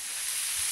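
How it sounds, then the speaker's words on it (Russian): Meat frying fast over heat gives a steady, close sizzling hiss that holds evenly through the brief moment, with no voices. "Очень быстро жарится, ребята."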